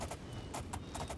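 Horse hooves clip-clopping in the video game Oblivion, a fast, quiet run of evenly spaced hoofbeats in the background.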